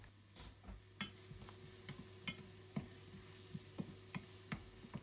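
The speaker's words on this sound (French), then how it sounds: "Je rajoute un peu d'huile d'olive et je laisse revenir." Courgettes and onions sautéing in olive oil with a low, steady sizzle, broken by regular clicks and scrapes of a utensil stirring the pan, moderately quiet and without voices.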